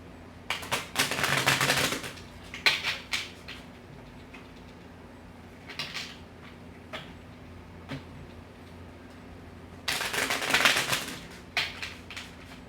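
Tarot cards being shuffled by hand, two riffling bursts of papery flutter separated by soft taps and clicks of cards being handled, close and quiet with no talk.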